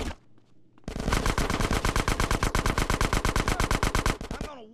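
Sustained rapid automatic gunfire in the video game GTA San Andreas during a gang shootout, a loud, steady stream of shots for about three seconds after a brief quiet start, with no talk.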